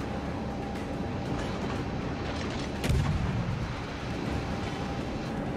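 Naval guns firing in the World of Warships video game, a single heavy boom near the middle of the clip over a steady rumbling battle backdrop.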